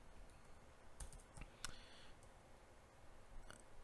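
Someone types on a computer keyboard at a desk, producing faint, scattered key clicks with a few sharper taps, quiet and close against a low room hiss.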